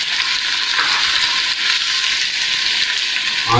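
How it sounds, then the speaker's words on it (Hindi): Ginger garlic paste sizzles with browned onions in a pan for Bombay chicken biryani, a loud, steady, hissing fry that runs unbroken throughout with no talking. "अदरक लहसुन का पेस्ट डालने के बाद ये थोड़ा सा फ्राई होने दें इसको"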